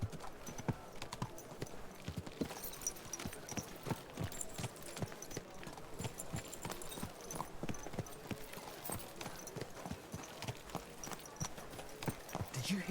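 Horse hooves clip-clop steadily in the medieval video game Kingdom Come: Deliverance II, a continuous close rhythmic trot of hoof strikes heard alone without speech.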